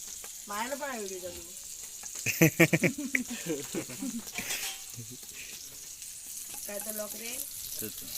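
Chicken frying on a wood-fired clay stove during heavy rain, a steady sizzle with stirring clatter and scraping, while people talk over it intermittently.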